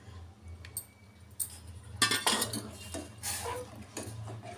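A spoon stirs a ragi flour and water mixture in a pot over low flame, with intermittent metallic clinks and scrapes against the vessel, close and moderately quiet, no talking.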